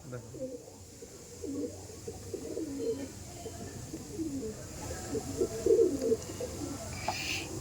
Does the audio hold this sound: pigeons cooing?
yes